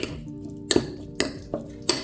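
Grated fruit being mixed on a plate produces four distinct clinks of a utensil striking the dish at uneven intervals, each ringing briefly over a soft scraping, close and fairly loud.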